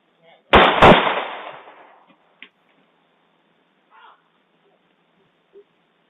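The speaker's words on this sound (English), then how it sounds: "there's gunshots. You could hear it very clearly." One loud, sharp gunshot-like bang with a decaying echo, followed by a few faint distant pops spaced apart in otherwise quiet surroundings.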